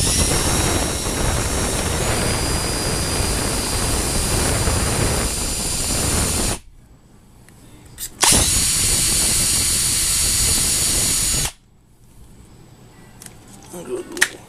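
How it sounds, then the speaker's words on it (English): A step drill bit bores through a small metal barrel for an LED spotlight in two long, loud bursts of high-pitched whining and grinding, with short quiet pauses between them. "I found it a little easier using a stepless bit because you just do it little by little."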